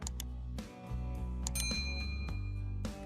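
Bright notification bell chimes ring out in a quick series of clear metallic dings over a low sustained musical tone, a short sound-effect jingle with no talk.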